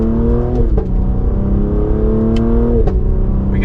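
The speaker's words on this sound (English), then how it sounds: "Now I just put it into V mode. We have it in sport mode for the paddles. We got some pops." A 2024 Cadillac CT5-V in V mode with paddle-shift sport settings, its exhaust drone steady and loud while revs climb and drop with a few sharp crackling pops between shifts.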